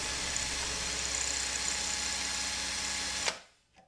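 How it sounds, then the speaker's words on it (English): A power drill running in reverse drives a screw extractor into a stripped screw, whirring steadily up close for about three seconds, then cuts off abruptly and winds down into quiet. "make sure that the drill is in reverse"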